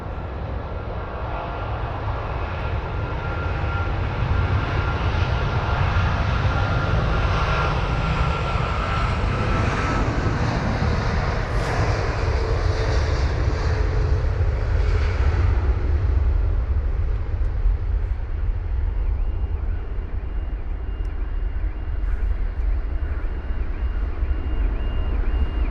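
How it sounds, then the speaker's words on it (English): A Boeing 777 airliner takes off at London Heathrow, its jet engines a loud, continuous roar close by that holds steady and rumbles heavily throughout, with no voices. "So loud, that 777, it really was."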